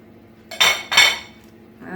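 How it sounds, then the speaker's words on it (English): A utensil scrapes rhubarb bun filling from a bowl in two quick, clanking metallic strokes against the dish, close and clear in a quiet kitchen. "Just scrape it all out, get every bit out of it."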